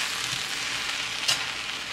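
Shrimp fried rice sizzling in a pan, a dense, even crackle close up with a brief sharper scrape of stirring partway through, no voices over it.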